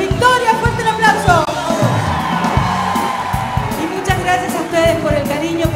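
A lively crowd at a folklore festival cheers and whoops continuously, with loud shouts and a busy roar of voices throughout.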